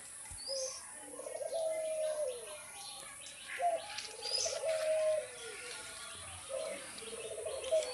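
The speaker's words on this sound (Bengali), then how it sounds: "এগুলো হচ্ছে আমার লক্ষা কবুতর, ওরা গোসল করতেছে।" Lakkha pigeons cooing while they bathe in summer heat: soft, repeated rolling coos in several bursts, fairly close, with faint chirps and light splashing behind.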